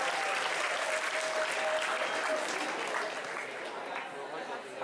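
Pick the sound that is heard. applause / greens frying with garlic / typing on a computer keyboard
applause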